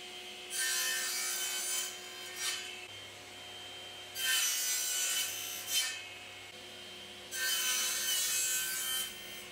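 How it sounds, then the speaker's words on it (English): Table saw with a mitre gauge set to 45 degrees cutting wood strips into frame pieces: three separate rasping cuts, each lasting about a second and a half, with a steady motor hum between them. "I can get the mitre gauge set to 45 degrees and start cutting the"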